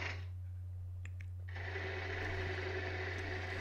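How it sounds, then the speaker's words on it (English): A bowl gouge glides across dry wood spinning on a lathe. A faint, steady motor hum runs throughout, and a soft, continuous scraping hiss of cutting picks up partway through. "just gliding the tool across the surface of the wood and let the wood be cut by the edge of the tool"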